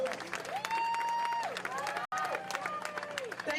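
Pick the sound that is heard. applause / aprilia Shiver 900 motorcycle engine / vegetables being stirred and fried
applause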